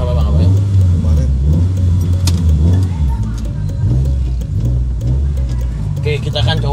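A Mitsubishi Lancer after an engine overhaul runs with a steady, loud low rumble up close, its idle pulsing throughout with brief rises, while people talk nearby.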